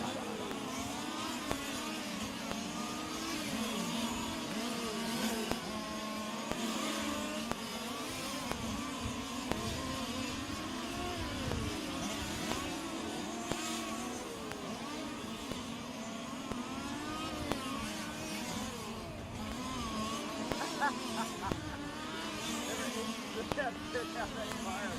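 Fifth scale on-road radio-controlled race cars run at a world championship qualifier, their small engines whining and revving continuously at a distance while a commentator talks over the PA throughout.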